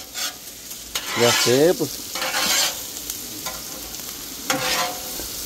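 A hamburger patty sizzles and fries in a hot pan, with bursts of scraping and stirring over a steady hiss while a person speaks briefly.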